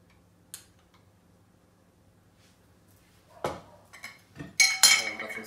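A spoon stirs plum jam and mustard in a bowl, giving scattered clinks and scrapes that grow busier and louder toward the end after a mostly quiet start.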